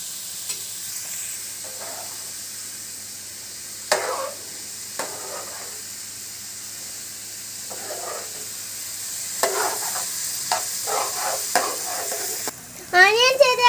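Onions and green chillies frying in a pan for egg curry give a continuous soft sizzle, broken by repeated scraping stirs and light clinks, close by, with a sharper clatter of activity near the end.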